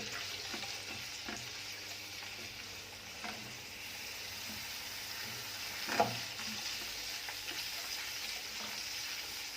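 Minced garlic fries in oil for Egyptian koshari tomato sauce, cooked in a single pot: a soft, steady sizzle continues throughout, fairly quiet, with a faint clink near the middle.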